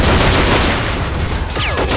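A grenade goes off in a Men of War battle against armored shock infantry, a loud close blast rolling into a dense booming rumble amid gunfire, with a short whistling streak near the end.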